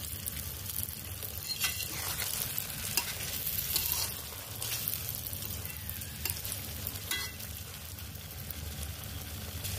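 An aloo paratha fries in mustard oil with a steady, moderate sizzle and occasional crackles and light spatula scrapes, close by.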